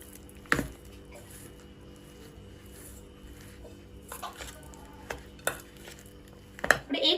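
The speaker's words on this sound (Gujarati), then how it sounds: "હવે આપણે સારી રીતના મિક્સ કરી દઈશું।" A Gujarati cutlet mixture sweetened with sugar is stirred in a bowl, giving quiet, intermittent squishes and a few sharper spoon knocks against the side, with a flurry of them at the end.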